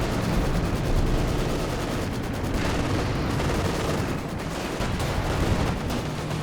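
Artillery shells pounding a ZiS anti-tank gun during a Company of Heroes 2 two-versus-two match, heard as a dense, continuous roar of blasts and battlefield gunfire that stays loud throughout.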